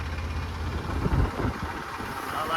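A tractor's engine idles at a service station, a steady low rumbling drone that holds evenly throughout at close range, with no talking over it.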